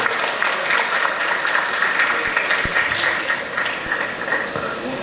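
Audience applause fills the hall at the JANGO film audio launch event, a dense, steady wash of many hands clapping that holds strongly for about five seconds without letting up.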